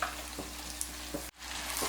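Ground green masala paste hits hot onions frying in a pan for Bangalore-style donne chicken biryani, giving a steady sizzle with a few stirring scrapes and a brief drop in the middle.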